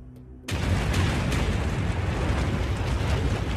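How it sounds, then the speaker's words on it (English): A violent volcanic eruption bursts in abruptly after a brief quiet moment, then holds as a dense, loud, sustained roar and rumble with no pause or voices. "a doomsday eruption causes catastrophic death and destruction"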